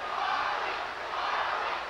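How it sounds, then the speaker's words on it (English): Boxing arena crowd at the Larry Holmes vs Muhammad Ali heavyweight fight chanting Ali, a dense, steady roar of massed voices held at an even level throughout with no break. "The crowd chants. You hear them."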